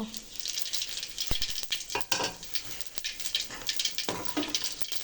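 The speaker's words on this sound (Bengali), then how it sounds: "এখন আমি তেলটা গরম হয়ে গেছে এখন আমি কটা জিরা দিব" Cumin seeds crackle and sizzle in hot oil in a home kitchen pan while cooking tilapia curry with pumpkin, with a steady frying hiss, occasional sharp pops, and light spoon or pan clatter.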